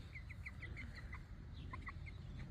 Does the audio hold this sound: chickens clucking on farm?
yes